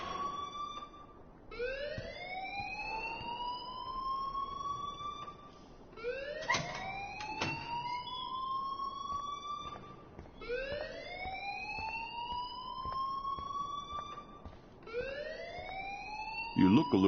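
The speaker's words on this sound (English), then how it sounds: "please turn off that alarm since that's your job" A wailing alarm in a video game sweeps upward in long repeating cycles, about every four seconds, loud and steady across the whole stretch with no talk over it.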